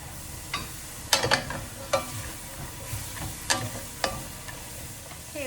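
Carrots go into a soup pot and sizzle softly beneath a run of sharp scraping and clattering stirring hits, several close knocks at irregular intervals, with no voices.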